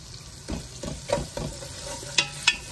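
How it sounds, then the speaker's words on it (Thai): Beef and onion stirred in hot olive oil in a large pot, a soft steady sizzle under several distinct scraping stirs with two sharper clinks near the end, close and fairly quiet, with no voices. "เติมน้ำมะกอกลงไปผัดเนื้อกับหัวหอมให้เขาหอมก่อนนะคะ"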